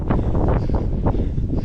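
Cold wind gusts across a hiking trail along Hadrian's Wall, buffeting the microphone with loud, steady low roaring and rumbling throughout.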